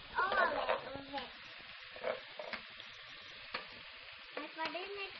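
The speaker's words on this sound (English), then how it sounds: "mix it all. Mix all of it." Bitter gourd and glass noodles are stirred in a frying pan, soft sizzling with occasional utensil scrapes and clatters, while a person talks over it at moderate volume.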